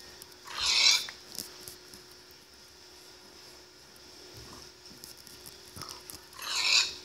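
A pig in Minecraft gives two short, squealing grunts a few seconds apart, near and moderately loud, with quiet game clicks and footsteps between them.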